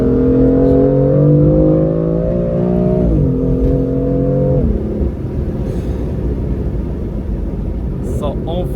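A BMW M4 F82 with a dual-clutch gearbox accelerates hard in sport-plus mode, its engine note climbing loud and close through two rising pulls with a gearshift dip between them, then settling into a steady heavy rumble.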